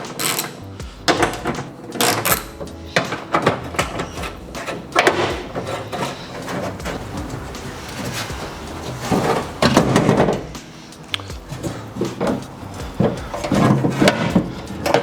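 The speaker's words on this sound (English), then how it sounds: "so that's the window winder mechanism. So that just comes out." A window winder mechanism is worked loose and pulled out of an HX One Tonner car door. Clunks, rattles and metallic scrapes of sheet metal and parts come close by and irregularly, with pauses between them.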